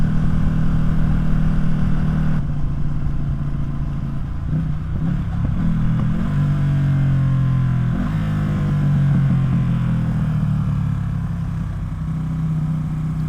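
Ducati Streetfighter motorcycle with an Arrow exhaust running without a silencer, its engine droning loud and close, with rising revs and steady rumbling through the clip.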